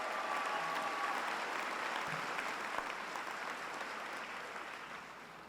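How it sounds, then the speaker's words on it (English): Family members in the audience at an NYPD police academy graduation ceremony applaud in a large hall, a thick, even roar of clapping that slowly tapers off, with no talking heard. "Family members, give yourselves a round of applause."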